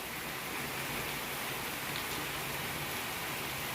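Rain falls steadily as a soft, even wash of patter, faint and continuous throughout, with no voices over it.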